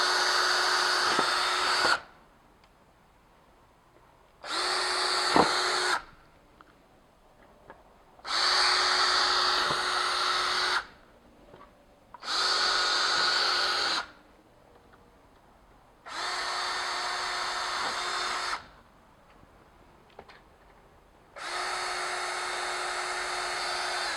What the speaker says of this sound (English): now that I've got the holes pre-drilled